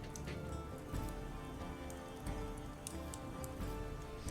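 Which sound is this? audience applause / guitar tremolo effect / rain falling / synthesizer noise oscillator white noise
rain falling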